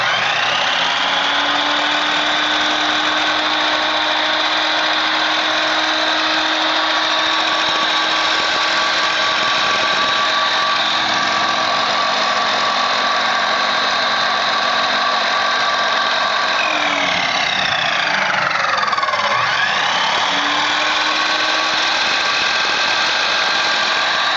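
A 12-inch double-bevel sliding compound miter saw with laser guide runs with a loud, steady motor whine. Near the end the pitch briefly sags and then climbs back up to full speed.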